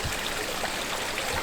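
A backyard pond waterfall keeps up a steady, close splashing rush of falling water, unbroken and even, with no voices.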